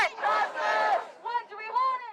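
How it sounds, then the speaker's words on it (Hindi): A crowd of protesters against attacks on Iran shouts together in loud, chant-like bursts, with voices rising and falling in a ragged rhythm. "वहीं पास ही लोगों की भीड़ ईरान पर हुए हमलों का विरोध कर रही थी"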